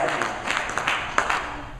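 Audience applause at a 2013 keynote address, a short burst of clapping from a crowd that swells and then thins out over a couple of seconds.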